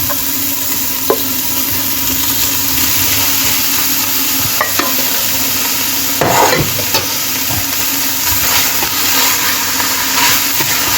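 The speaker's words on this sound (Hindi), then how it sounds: "अब हम इसमें चिकन डाल देंगे।" Shredded chicken, boiled earlier with salt and garlic, sizzles and fries steadily in a pan over low heat while it is stirred, with occasional scraping clinks from the spoon and no voices.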